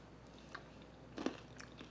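Someone bites into and chews crunchy granola up close: a few soft crunches, then one sharp, louder bite near the middle, followed by quieter chewing.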